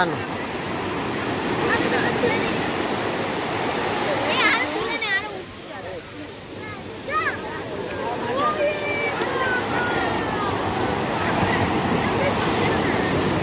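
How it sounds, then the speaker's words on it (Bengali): Sea waves break on the shore at Puri beach, a continuous heavy surf roar with gusting wind over the microphone, while people talk nearby. "ঢেউটা ভাঙছে"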